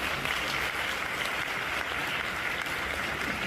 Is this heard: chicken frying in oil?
no